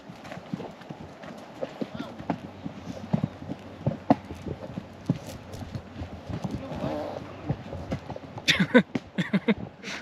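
A horse walking along a trail, its hooves clip-clopping in a steady rhythm close by, with people talking over the footfalls throughout.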